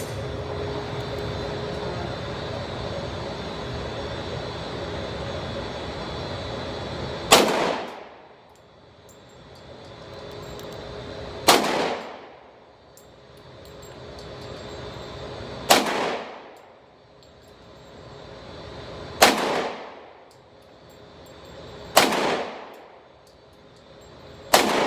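Firearm shots crack loudly at an outdoor shooting range, six sharp reports spaced a few seconds apart, each followed by a fading echo.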